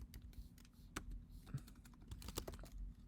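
Typing on a computer keyboard while coding, heard as a steady run of close, quiet key clicks with a few sharper taps and no talking.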